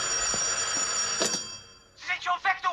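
A telephone bell rings in a film comedy gag, a steady high ringing tone for about two seconds, followed by short bursts of laughter or voices near the end.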